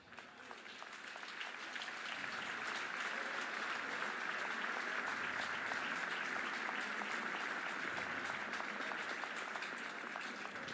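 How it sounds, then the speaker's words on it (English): Baseball fans at a college game between Oklahoma and Alabama applaud an injured player, steady stadium clapping and cheering that swells over the first two seconds and then holds, distant and wide. "Round of applause by the fans, Crimson Tide players for Bonamolo."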